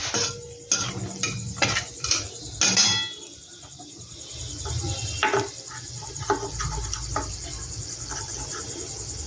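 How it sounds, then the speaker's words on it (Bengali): A spatula stirs whole garam masala and a bay leaf frying in a wok, with irregular close scrapes and clinks against the metal over a faint sizzle and soft background hum. "এখানে আমি কিছু গোটা গরম মশলা দিয়ে দিচ্ছি, দিয়ে দিলাম একটা তেজপাতা, তার সাথে একটু নাড়াচাড়া করে নেব"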